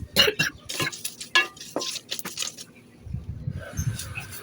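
Black cumin seeds fry in an oiled wok alongside already-fried onions as a spatula clatters and scrapes against the metal in uneven strokes, with a faint sizzle in between.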